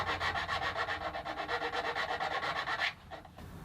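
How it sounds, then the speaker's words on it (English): Hand file working notches into the wooden lining of an acoustic guitar body, a rapid, even rasping of back-and-forth strokes up close for about three seconds, then it stops. "And there's still a little bit more filing to do."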